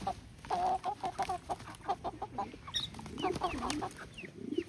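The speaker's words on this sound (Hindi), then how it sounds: "ये हमारे मुर्गे पानी पीते हुए" Roosters on a goat farm cluck repeatedly while drinking water, a close run of short, choppy clucks and throaty calls with a few higher squawks mixed in, heard on their own without talking.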